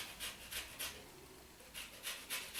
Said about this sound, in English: From the lemon you want to add the lemon zest first of all